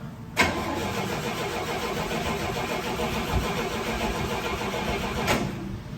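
A 1963 GMC Suburban panel truck, a barn find, cranks and catches, then its engine runs with a rough, busy mid-pitched rumble for several seconds before cutting off abruptly.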